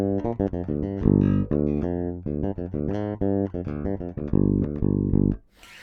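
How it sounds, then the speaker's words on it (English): A 1986 Paul Reed Smith PRS Bass 4, played passive on its back bridge pickup, plucks a quick melodic bass line of bright, punchy notes, heard alone and close, before stopping abruptly at the end. "And then the back pickup."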